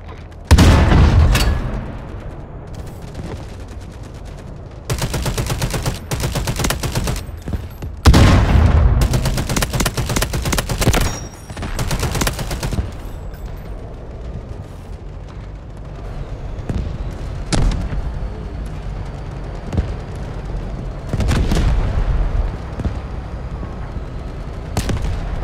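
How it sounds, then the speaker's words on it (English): An artillery barrage in the video game Delta Force, with repeated loud booms and sharp gunfire bursts spread irregularly over steady battlefield rumble and no voices. "Artillery ready for barrage."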